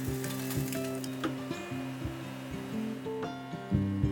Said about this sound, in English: At this point in time, you can start frying up your Spam slice.